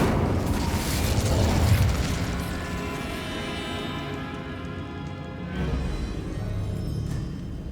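Confringo fire spell blasting in Hogwarts Legacy, a broad booming burst with a rumbling roar that lingers and swells again, loud throughout with no voices.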